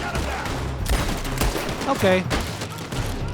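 Scattered gunshots in the western game Red Dead Redemption II, several irregular shots mixed with game sounds, while someone speaks briefly.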